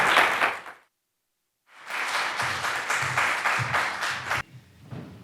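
An audience claps and applauds after a talk for a national teacher of the year. A short burst fades into a brief silence before a fuller round of steady clapping swells and then tapers off.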